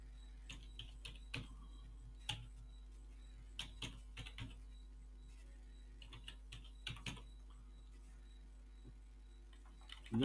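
Scattered keystrokes on a computer keyboard while working in the Nvim editor, irregular single taps and short bursts with pauses, quiet and close, no talking.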